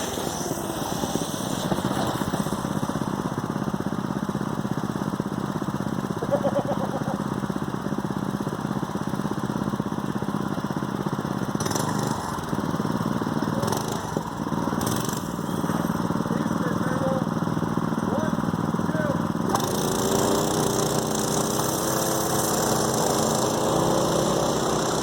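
A Mega Moto 212cc mini bike with a torque converter is ridden. Its small engine drones loudly and steadily close by, with a few brief changes in pitch and one surge as it moves off.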